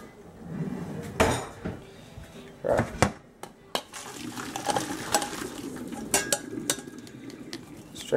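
Metal pot and utensils clatter and clank in bursts as boiled potatoes are strained in a kitchen, with irregular knocks, a faint watery rush and a voice speaking nearby.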